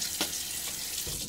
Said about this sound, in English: Water on the face.